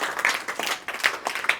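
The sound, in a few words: applause for a student's answers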